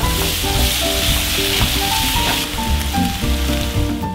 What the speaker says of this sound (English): Stir fry about a minute or until you smell this beautiful aroma.